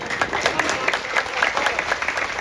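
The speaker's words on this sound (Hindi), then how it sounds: "जरा इनके लिए एक बार जोरदार ताली बजा दो।" An audience at a religious discourse gathering claps loudly for a guest, a brisk, dense burst of many hands that stays strong and unbroken with no talk over it.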